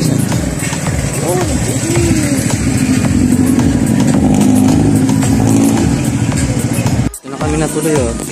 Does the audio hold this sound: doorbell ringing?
no